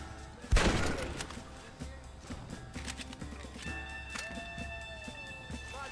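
Rapid gunfire crackles in a Red Dead Redemption shootout, a sharp close burst at the start followed by scattered shots, hoofbeats and shouting voices amid a busy game soundscape.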